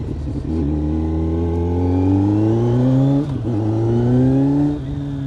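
A Kawasaki Z900 motorcycle engine with a LeoVince GP Corsa slip-on exhaust revs up steadily and loudly, with rising harmonic tones, drops briefly, then revs again close by; no talking.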